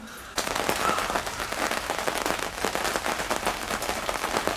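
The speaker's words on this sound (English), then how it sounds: "It started raining outside." Rain begins outdoors on a clear day with light clouds, a sudden onset of dense, steady patter that stays loud and even for several seconds, with no voices.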